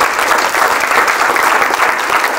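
An audience claps for Minnesota House 21B candidates, with dense, loud applause that continues evenly throughout.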